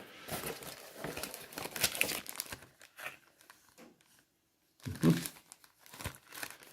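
A sheet of paper from a Star Wars Legion Sandtrooper on Dewback miniature kit is handled and crinkled at close range, with bursts of crackling rustle, a pause near the middle, then another loud crumple.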